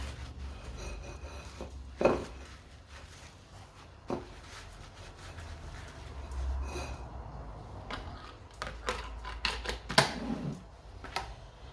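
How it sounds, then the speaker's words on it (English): Margarine is wiped over a pie dish to grease it for a Maltese corned beef pie, giving soft rubbing and scraping strokes with a few sharper knocks, close up and without talk. "I'm just using some margarine here and just wiping that all over the dish"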